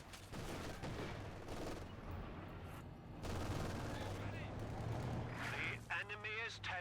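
Bursts of machine gun fire and scattered explosions crackle through a Company of Heroes 2 battle, dense and continuous at moderate loudness, with a voice speaking briefly near the end.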